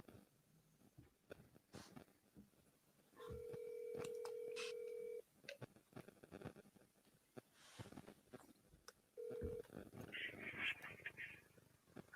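A telephone call placed to a state trooper's line: steady electronic tones from the phone, one long tone of about two seconds and a shorter one later, sounding over and between people talking.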